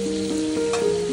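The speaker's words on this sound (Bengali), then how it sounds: "ইলিশ ভাজি।" Hilsa fish fries in its own oil in a pan, giving a brief, steady close sizzle with faint crackles.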